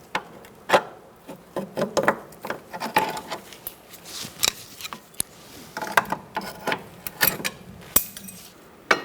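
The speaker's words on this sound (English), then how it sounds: "Next, we're going to remove this spring clip. You can use a pry bar once again." A pry bar works a spring clip off a rear brake hose on a 2004-2009 Mazda 3, producing a close series of irregular metallic clicks, scrapes and taps with short pauses between them and no talking.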